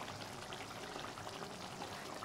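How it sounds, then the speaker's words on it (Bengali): Water coming to a boil in a curry pan before cauliflower, potato and fried bori go in, a steady dense bubbling and hissing wash that stays even and close throughout. "দেখুন বন্ধুরা, জলটা ফুটছে।"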